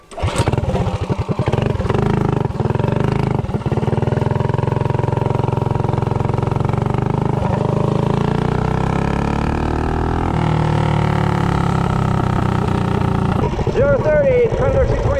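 A Predator 224 small engine fitted with a cast aluminum flywheel runs loud and steady for the whole stretch, its drone holding with slight shifts in pitch and a brief rising whine near the end; a voice speaks now and then over it.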